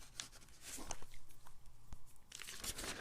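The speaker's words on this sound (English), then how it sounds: "I'm trying to get my page turned." Paper page being turned, soft crinkling and tearing-like rustles in short bursts, faint and close, with no talking.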